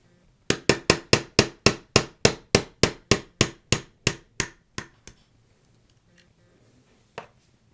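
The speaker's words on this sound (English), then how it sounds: "So I'll go ahead and drive the pin out real quick." A quick run of about sixteen sharp metal hammer blows striking a pin punch to drive a pin out of a Hi-Point CF380 pistol, evenly paced, then a pause and one last isolated tap.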